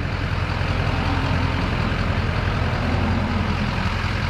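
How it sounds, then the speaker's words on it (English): A big truck rolls past on a road beside a parked Duramax pickup, a steady broadband rumble holding at a constant loud level for the whole stretch, with no voices over it. "There's a big truck coming now."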